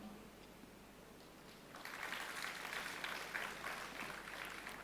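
Audience at a spiritual talk breaking into applause after a pause, a soft, distant patter of many hands rising suddenly and holding steady for a few seconds.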